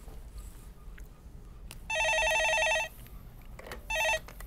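A telephone rings twice for a call-in on a Korean stock-market broadcast, with a long electronic bell burst followed by a shorter second one over a quiet studio background.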